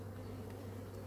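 Honey bees at a strong, crowded hive trying to swarm after rainy weather, a steady dense buzz that stays level and close throughout.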